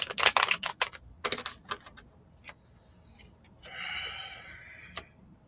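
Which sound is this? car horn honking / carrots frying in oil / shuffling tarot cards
shuffling tarot cards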